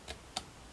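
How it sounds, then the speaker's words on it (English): Scissors snip through a paper banner made on a Dollar Tree punch board craft, two quiet crisp cuts spaced about a quarter second apart, close and faint with no talk. "You take your scissors and you snip up through this center like that."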